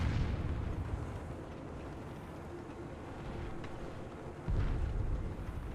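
Artillery shelling in the War Thunder video game, a continuous rumbling barrage of distant booming impacts with a heavier blast near the end, no voices over it.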